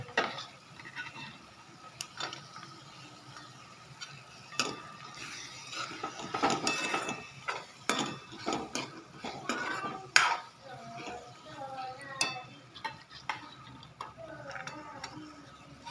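Washed chana dal tipped into oily masala in a pot for katval bhaji, with scattered scraping stirs, clinks of a spoon against the pot and a soft sizzle, fairly quiet and close, with a voice speaking intermittently.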